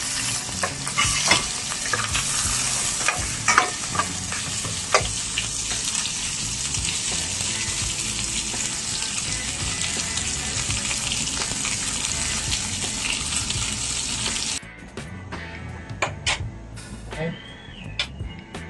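Sliced pork sizzles loudly in a hot pan with scraping stirs while cooking batchoy, then the frying drops to a quieter sputter near the end.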